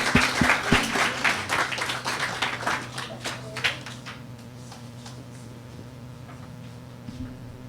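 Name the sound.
audience applause welcoming drummer Marvin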